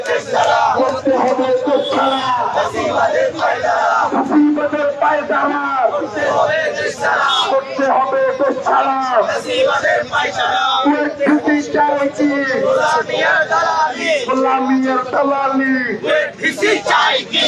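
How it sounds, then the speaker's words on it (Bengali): Students marching in a protest at Dhaka University over the KUET vice-chancellor's resignation demand chant and shout loudly in unison, a dense, continuous rhythmic roar of many voices close by with barely any pause. "তারা বিক্ষোভ মিছিল করছে ঢাকা বিশ্ববিদ্যালয়ের সাধারণ শিক্ষার্থীরা"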